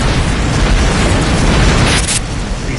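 Spaceship exploding as a target is destroyed in the space combat game Rebel Galaxy, a loud, sustained rumbling blast with crackling debris that thins toward the end, no talk.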